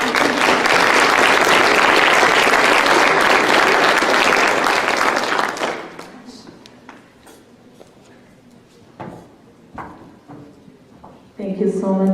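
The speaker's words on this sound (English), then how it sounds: "Applause for Lovina." A panel discussion audience applauds in a dense, loud burst of clapping for about six seconds, then it fades to scattered claps and small room noises before a voice begins.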